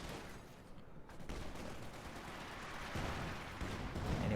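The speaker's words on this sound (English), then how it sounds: "that's the Major using its artillery ability" Artillery barrage from the Major in the strategy game Company of Heroes 2: distant rumbling volleys and booms blend into a continuous battlefield roar that swells louder toward the end.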